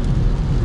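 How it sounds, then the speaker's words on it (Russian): Rain patters steadily on a car while driving home, a dense, loud wash of noise with a low road rumble and no speech. "а в дорогу нам дождь"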